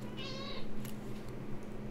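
A house cat gives a single short meow near the start, fairly close and moderately loud, over a steady low hum of room and game background noise.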